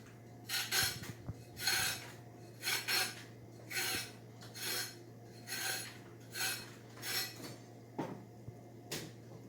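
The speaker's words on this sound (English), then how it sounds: "we're just going to go and scrape the carrots directly into the compost" Chopped carrots scraped off a board into a compost bin, a series of about nine rhythmic rasping scrapes at a steady pace against a faint hum, with no talking.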